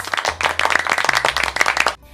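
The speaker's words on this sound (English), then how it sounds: "You all deserve a round of applause!" Lively clapping rings out as an online science lesson for young students ends, with quick irregular hand claps close to the microphone and a low steady hum underneath, stopping abruptly near the end.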